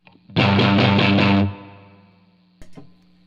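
A distorted electric guitar chord strikes and rings briefly, then a long reverb tail decays, followed by a short muted pluck.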